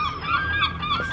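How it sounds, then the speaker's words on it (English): Seagulls calling outdoors in the seaside town of St Ives, a run of bright, overlapping cries at close to moderate range, steady through the short stretch with no talking. "Seagulls."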